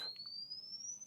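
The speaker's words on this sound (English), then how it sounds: "So that's with a sine wave." A pure sine wave passing through vocoder filter bands in BEA5, heard as a single clean, faint whistling tone that glides slowly upward in pitch over about a second, with a soft click at the start.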